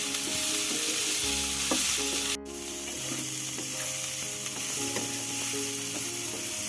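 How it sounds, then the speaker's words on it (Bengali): Half-boiled cauliflower fries in a pan with a close, continuous sizzle, mixed with scattered stirring clicks and a low steady hum, and no one speaks. "বাস মাত্র 5 মিনিট ভেজে নেব।"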